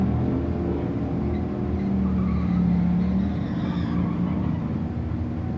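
A drag race between a 1972 Luv and a 1966 Mustang at a Wednesday night drag strip, with a steady engine drone and rising tonal whine heard at a distance, loud and continuous without talk.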